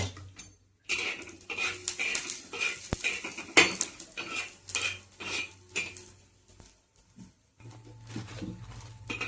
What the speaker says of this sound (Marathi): धने पण छानपैकी तेल टाकून भाजायचे